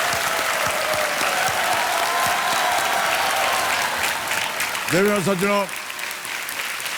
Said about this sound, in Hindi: तालियां बज जाएं सबके लिए।